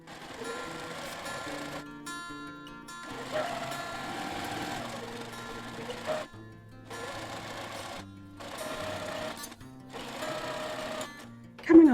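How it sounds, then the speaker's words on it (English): Sewing machine stitching quilt seams, running in several bursts of a few seconds each with short pauses between, a steady close mechanical whir and hum that stops and restarts. "I'm just going to sew them in the direction they were pressed"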